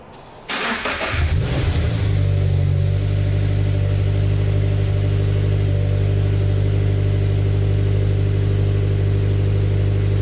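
A Subaru FRS engine cranks and fires after a spark plug change, flaring briefly before settling into a steady, even idle, loud and close, with no talking.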